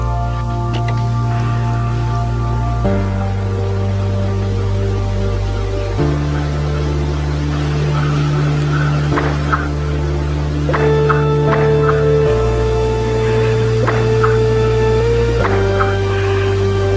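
A hip hop beat outro, an FL Studio remake of a song: a steady bass line and sustained melodic synth tones, the arrangement shifting every few seconds and a brighter lead entering later.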